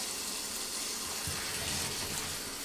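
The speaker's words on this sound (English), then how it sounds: "we're going to fill it up and cover the potatoes in water" Water pours steadily from a kitchen tap into a pot of potatoes, a continuous close gushing rush that fills the whole clip with no talking.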